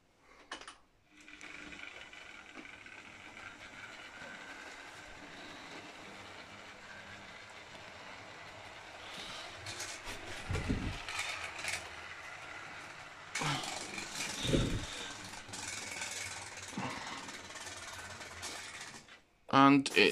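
A Hornby model train runs along its track with a continuous whirring motor hum and light clicking over rail joints, close but fairly quiet, with a few louder rattling bursts near the end.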